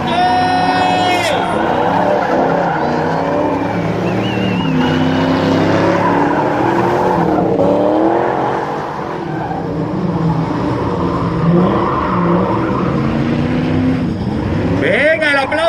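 A drift car from the Tame Drift team screeches through a gymkhana drift demonstration, tires squealing in long, loud skids over a roaring engine, while an excited announcer talks throughout.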